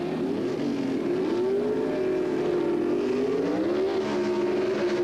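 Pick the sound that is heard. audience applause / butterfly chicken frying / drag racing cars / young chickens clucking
drag racing cars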